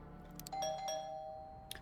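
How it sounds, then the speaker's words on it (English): A doorbell chimes at the door of an occult bookstore in the Vampire: The Masquerade video game, a quiet two-tone ding-dong ringing out clearly and fading, with a faint click near the end. "You reflect as you ring the doorbell of the occult bookstore that serves as Agathon's haven."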